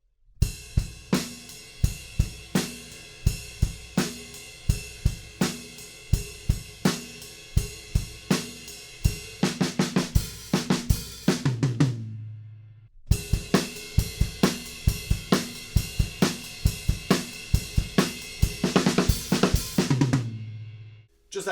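Drum kit playing a groove and fills from a rock song, with steady cymbal-and-snare hits building into dense tom rolls that end in a ringing crash, a brief gap, then the pattern again; close and loud, no talk.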